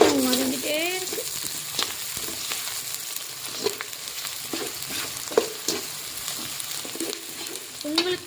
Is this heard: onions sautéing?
yes